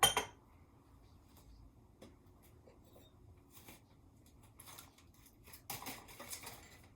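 Glass of water set down on a kitchen table beside a plate of cornbread and chili, faint scattered clinks and taps of glass and dishes over a quiet room, with a brighter cluster of clinks near the end.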